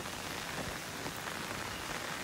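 Hurricane Florence rain pours down steadily in a dense, constant hiss on surfaces outdoors, loud and unbroken, with no voices.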